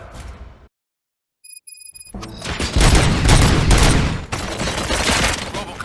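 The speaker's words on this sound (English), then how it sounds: "Gunshots?" Gunfire in the video game Robocop: Rogue City, a loud sustained burst of shots and booms that breaks in after a brief silence and a few high chimes, continuing densely to the end.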